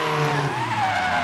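A Nissan S15 drift car slides around a Japanese motorpark track during a drift competition qualifying run, with a loud, continuous tire squeal and engine roar held steady throughout.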